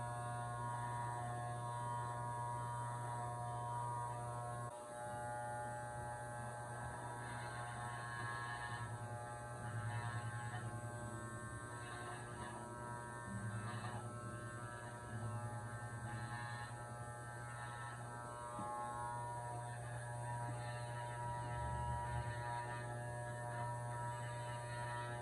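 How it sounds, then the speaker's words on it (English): Electric hair clippers buzz steadily while cutting someone's own hair at home, a faint continuous droning hum that shifts slightly in pitch as the blades pass through hair. "So I'm just going to give it another pass with the clippers."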